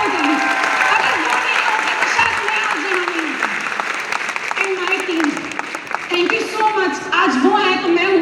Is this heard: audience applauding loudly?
yes